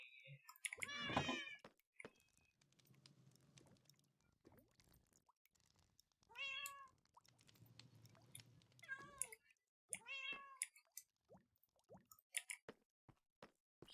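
Cats meow in several distinct bursts: a loud, close cry at the start, then more meows at intervals, with faint clicks and soft background hum between them.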